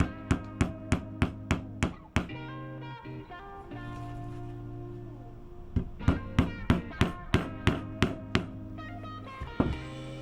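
Rapid regular hammer taps drive a glued wooden plug into an enlarged screw hole in the neck of a 60-year-old Teisco BS-101 bass, two close bursts of ringing knocks separated by a pause.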